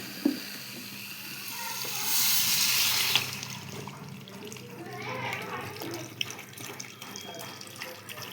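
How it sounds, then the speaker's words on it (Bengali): Water poured into a pan of well-fried, sizzling curry gives a loud hissing rush that fades into a softer bubbling simmer, with faint clinks and a low background hum. "এই জল আমি অ্যাড করলাম জল দিয়ে"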